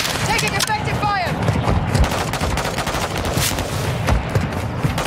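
Rapid gunfire crackles through a video game firefight, dense bursts of shots layered with voices talking over the action throughout.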